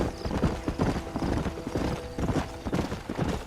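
Horse hooves gallop in Red Dead Redemption, a fast, steady clip-clop close by with a brief whinny mixed in.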